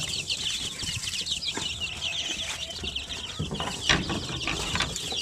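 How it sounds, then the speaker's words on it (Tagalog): Chicks and chickens on a poultry farm near an incubator, with a steady, dense chorus of high peeping and clucking close by and occasional wing flaps, no talk. "Yan ang mga sisiw."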